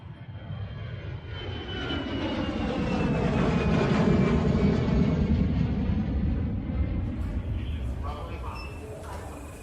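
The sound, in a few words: airplane engine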